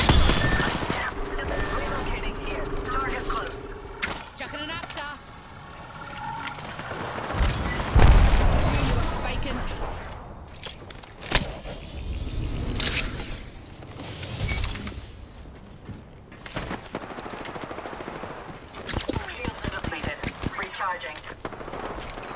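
Gunfire in the battle-royale shooter Apex Legends: bursts of automatic rifle fire, single shots and a few heavy booms, dense at first, then sparser and more scattered, with occasional mechanical clicks.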